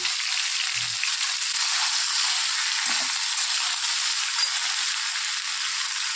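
Taro (kochu) pieces frying in oil in a pan, a steady, close sizzle that runs without a break from start to finish, with a couple of faint low knocks and no voices.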